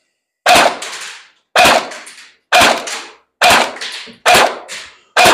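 A Tokyo Marui or Cyma SGR12 airsoft shotgun loaded with 0.20 g BBs fires through a chronograph, giving five loud, sharp reports evenly spaced about a second apart, each with a short decaying tail.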